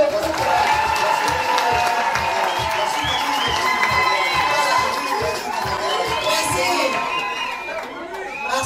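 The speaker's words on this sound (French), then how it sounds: "Applaudissez pour le groupe." Guests at a Cameroonian wedding celebration in a hall applaud and cheer, a steady crowd roar of clapping with chatter and a few shouts, while a voice speaks over the top.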